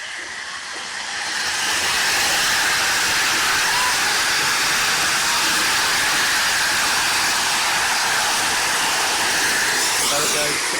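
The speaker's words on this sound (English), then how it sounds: "You can hear that steam. And of course the whistle." The Flying Scotsman steam locomotive, number 60103, at Stamford railway station lets off a loud, steady hiss of steam that builds and holds, broad and continuous, while a short high whistle note comes near the end.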